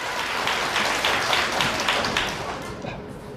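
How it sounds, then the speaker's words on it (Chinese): An audience at a Chinese crosstalk comedy show claps together, a dense, fairly loud wash of applause that holds steady and then tapers off near the end, with a voice speaking faintly at moments. "我想听听你们的掌声。 这不听见了吗？"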